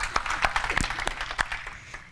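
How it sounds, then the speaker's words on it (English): An audience at a holiday closing ceremony gives a round of applause. Distinct, scattered hand claps rise and then thin out over a soft background, with some faint voices mixed in. "So one more round of applause."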